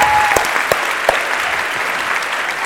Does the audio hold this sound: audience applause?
yes